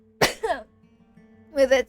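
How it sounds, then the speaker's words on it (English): A single sharp cough up close, followed by a second shorter burst, then a quiet pause and a brief voiced sound. "oh my god, I had to cough."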